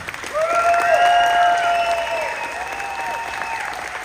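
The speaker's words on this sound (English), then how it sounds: "let's keep that applause going for the rest of our cast" Circus crowd at Nik Wallenda's high-wire show applauding, with loud sustained cheering and whooping voices riding over the clapping, swelling quickly then easing slightly.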